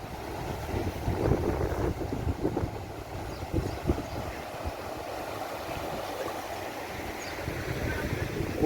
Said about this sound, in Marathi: वारा पाऊस येतो ना रे